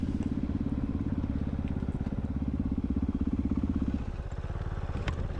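A Kove 450 Rally motorcycle rides off-road with a steady, throbbing single-cylinder engine note close by. The note holds even and strong, then eases briefly near the end.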